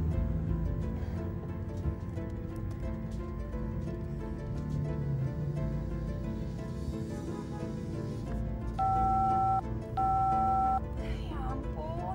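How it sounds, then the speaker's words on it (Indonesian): A telephone busy signal sounds twice near the end, two steady beeping tones each lasting about a second, after a stretch of background music and indoor sound. "kenapa sih telepon masih sibuk terus?"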